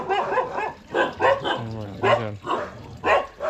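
A dog in a rural Nilgiris village area barks repeatedly in loud, close bursts with short yips between, keeping an uneven rhythm throughout.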